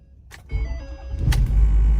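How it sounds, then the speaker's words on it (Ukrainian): A Ford diesel engine cranks and catches, then settles into a rough, clattering idle that grows louder and steadier. "дизельок колотає"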